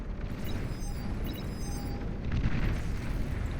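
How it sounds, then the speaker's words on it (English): A massive D-gun blast in the Beyond All Reason real-time strategy game wipes out a swarm of sprinter units, heard as a dense, sustained rumbling roar that swells louder partway through, with no talk over it. "Now, a lot of them just died in that explosion right there."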